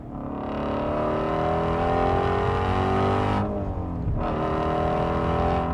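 Shelby Mustang GT350 engine pulling hard while driving, a loud sustained roar climbing steadily in pitch, dipping briefly at a gear change before building again, heard from inside the car.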